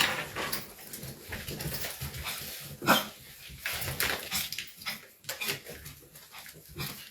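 A dog barks and whimpers against a busy, noisy background, with one sharper, louder yelp standing out near the middle and softer whines scattered around it.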